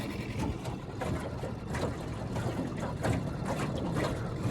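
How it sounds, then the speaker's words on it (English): A Suzuki DF6A 6 hp outboard motor trolls slowly across the water, giving a low, steady hum with soft splashing and a gentle rhythmic chug, quiet and continuous. "Nice quiet motor. I'm really happy that it trolls this slow."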